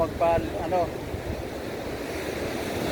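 Big ocean waves rolling onto the shore at Baler, a steady broad wash of surf with wind buffeting the microphone; a brief voice sounds near the start.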